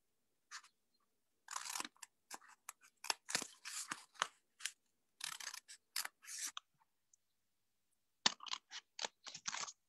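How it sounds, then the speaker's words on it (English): Paper scissors snipping through a folded paper moccasin pattern, a quick series of crisp close cuts in bursts with short pauses, including a rapid run of snips near the end, with no talking. "So I take my paper scissors. Remember, this is folded in 4, and I'm gonna cut out like this."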